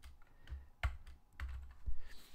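Typing on a computer keyboard, a handful of irregular close clicks and taps with short pauses between them, quiet and without speech.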